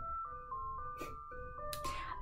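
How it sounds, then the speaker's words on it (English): A neighborhood ice cream truck plays its tinkling jingle melody as it passes, the tune steady and moderately distant over a low background rumble, with a couple of brief noisy swells. "They have an ice cream truck that comes by every so often."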